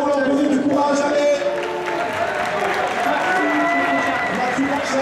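Audience applause and cheering for the players at the Soulcalibur 5 finals of the Stunfest 2016 fighting-game tournament: a sustained, fairly loud crowd clatter that continues for the whole stretch under a voice over a public address system.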